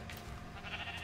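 Sheep bleating in the Minecraft video game, a short wavering game-animal cry heard alone over a steady low background with no talking.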